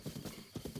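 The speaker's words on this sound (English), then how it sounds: "And the nice thing is, I've now got a horse." A horse's hooves clip-clop in the Breath of the Wild video game. The short, quiet run of even, rhythmic hoof beats sounds like a steady trot.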